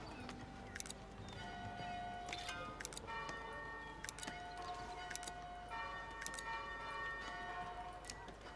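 Church bell tower ringing in the video game Foundation: a faint, quick series of bell strikes and chimes over a soft, steady background, with ticking, clock-like taps and no voices.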